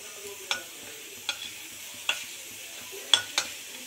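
Masoor lentil fritters frying in oil, a steady soft sizzle punctuated by regular light clicks of stirring or turning, close and clear with no talking.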